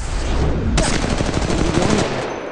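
Rapid automatic gunfire in an Apex Legends Mobile match, loud and close, with a dense burst of shots running for about two seconds over the game's background noise.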